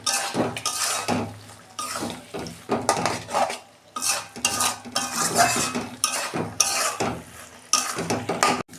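A red spinach stir-fry is stirred in a pan with a metal utensil, giving repeated scraping and clinking strokes against the pan in an irregular rhythm, with a light sizzle underneath.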